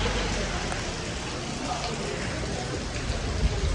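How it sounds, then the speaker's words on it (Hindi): Rain falls in Sydney, Australia, a dense, even hiss of drops that holds constant and fills the whole moment. "ये मेरे पीछे पीछे बारिश हो रही"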